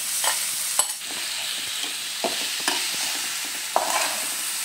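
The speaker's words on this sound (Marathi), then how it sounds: "चांगला आता आपल्याला ह्याला मिक्स करून घ्यायचं आहे।" Grated sweet potato with cumin is stirred in a pan, a steady soft sizzle punctuated by several sharp scrapes and clacks of the spoon against the metal, close and alone.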